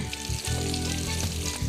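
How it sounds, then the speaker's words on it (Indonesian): Chicken coated in seasoned flour sizzles as it fries in hot oil, a steady close crackle with a few brief stirring bumps and no voices. "Goreng hingga berubah warna."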